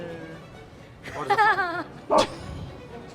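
Puppies give a wavering, whimpering yip followed by a short sharp bark, close and fairly clear against a quiet background.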